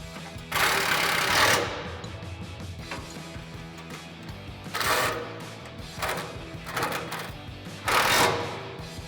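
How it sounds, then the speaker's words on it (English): Impact wrench fitted with a 13 mm socket driving bumper bolts on a 2021–2023 Ford F-150, four short rattling hammering bursts separated by pauses, close and loud. "we'll go ahead and tighten this down using our 13 mil socket on our impact and a 13 millimeter wrench"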